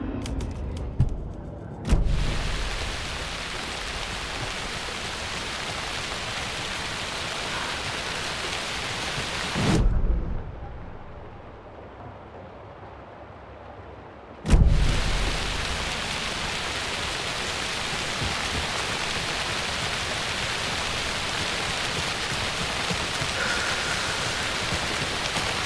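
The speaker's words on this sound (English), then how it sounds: "the darkness and rain pressing against the windows" Steady heavy rain hisses against windows in the video game Alan Wake 2, broken by two loud cracks of thunder, the first followed by a brief quieter lull before the downpour resumes.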